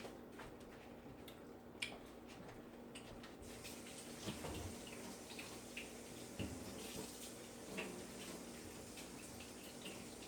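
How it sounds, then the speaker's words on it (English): A kitchen sink tap runs steadily as grapes are washed under it, a soft continuous stream with small splashes and knocks throughout, fairly faint and close, with no talking. "I'm going to put some grapes in there, so I'm going to wash these off."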